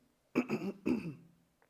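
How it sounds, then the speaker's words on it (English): A short two-part throat clearing, close and fairly loud, with a brief rough rasp. "I want to clear my throat again"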